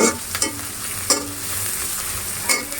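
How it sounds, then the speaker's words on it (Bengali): Garlic, onion, and green and dried chillies frying lightly in oil in a pan, a steady soft sizzle broken by a few sharp scraping stirs, close up and with no talking. "রসুন পেঁয়াজ আর কাঁচামরিচ শুকনা মরিচ আমি একটু হালকা ভেজে নিব"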